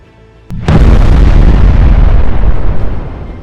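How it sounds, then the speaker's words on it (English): A massive, close explosion from an aerial bomb strike, a FAB-3000 or thermobaric munition dropped by a Su-34, erupts after a small pop into a long, deafening roar that slowly rumbles down over a few seconds. "producing massive explosions that destroyed their protective structures and severed their rotation routes"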